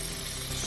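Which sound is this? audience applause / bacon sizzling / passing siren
bacon sizzling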